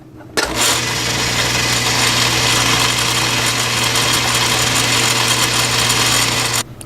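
A lathe spins a delrin workpiece, giving a loud, steady motor hum with a low drone that starts abruptly, holds evenly for about six seconds, then cuts off.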